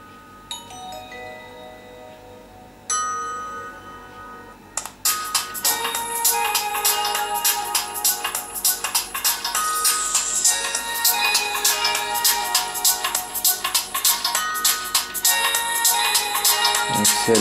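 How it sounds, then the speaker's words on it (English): Music plays through the built-in loudspeaker of an HTC EVO 3D handset, starting with a few sparse tones before a full, bright track kicks in and continues steadily at moderate loudness with no talking. "Now we're going to listen to some music, see what the speakers can do on this handset."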